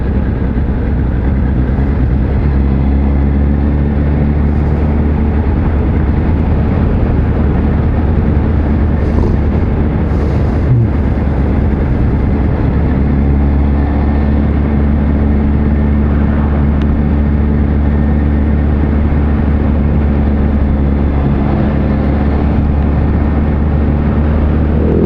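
A 2020 Kawasaki Z H2 supercharged naked motorcycle cruising in fourth gear at low speed, its engine giving a loud, steady, smooth hum with low harmonic drone and wind rush throughout, no talk.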